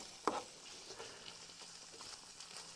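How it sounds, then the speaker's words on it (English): Onions and mince fry in a pan as they are stirred together, giving a soft, steady sizzle with a sharp scrape at the start and faint stirring scrapes after it, heard quietly without any talking. "So I'm going to add me onions to my mince. I'm going to stir all that in."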